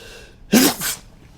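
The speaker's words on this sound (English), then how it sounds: "It's the sneezing of doom." A single sharp, loud sneeze bursting out close up, with a short breathy tail afterward.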